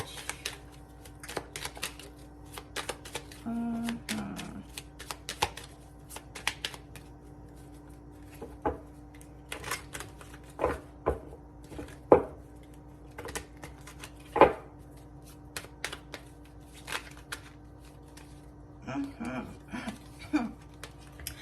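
Tarot cards are shuffled and drawn, giving repeated soft flicks and riffling patters with sharper card snaps scattered throughout, close and moderately quiet, with a faint steady hum beneath.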